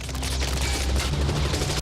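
A dense, continuous barrage of film-effect gunfire from the making of Terminator 2, loud and rapid, with shots blurring together into a sustained roar that stops abruptly.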